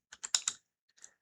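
Four quick keystrokes clack on a computer keyboard, then a short pause and a softer final tap or two, close and crisp in a quiet room.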